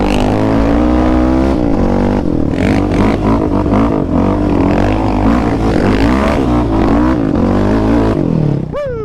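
An off-highway vehicle charges along a trail at Lakeview OHV Park, its engine loud and close, revving up and down in repeated surges of acceleration throughout.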